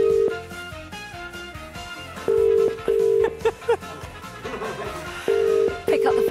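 A telephone ringing on a live TV show, with steady repeated ring tones in short bursts separated by gaps, accompanied by background music and studio sounds, as a call waits to be answered.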